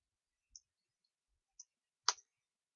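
A computer mouse clicks while objects are selected in illustration software: quiet, isolated clicks with gaps between them, ending in a sharper double click, with no talking.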